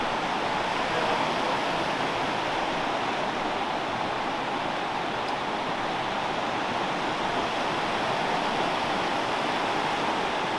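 Steady, dense roar of rushing water from a waterfall on a Brecon Beacons hike, a continuous broadband wash heard close and loud for the whole stretch with no voices.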